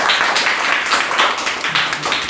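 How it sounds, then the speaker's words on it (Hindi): A classroom of young children at a government primary school claps together, a dense continuous patter of many small hands, steady and fairly loud throughout. "तालियां बजाओ इनके लिए।"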